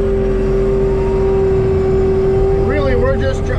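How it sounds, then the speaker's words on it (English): A TMC Cancela forestry mulcher runs loud and steady as heard from inside the cab, with a constant droning hum and a strong tonal whine, and a brief wavering voice-like sound near the end. "I'm gonna turn the mulcher on."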